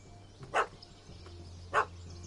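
Two short, sharp barks from a puppy in a video game, spaced about a second apart over a low ambient hum.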